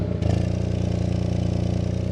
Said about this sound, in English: That is literally the sound of the exhaust.